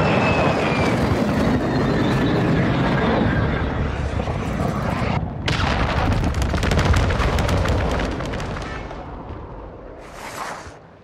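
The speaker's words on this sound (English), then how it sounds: "friendly stealth bomber on the way." In Call of Duty: Modern Warfare 2, a friendly stealth bomber passes overhead with a loud, continuous roar. Heavy rumbling blasts mix in, then the sound fades to a short rushing whoosh at the end.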